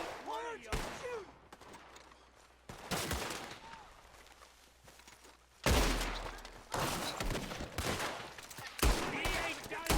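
Gunfire in the video game Red Dead Redemption 2, several loud shots and bursts separated by gaps, with voices talking between them.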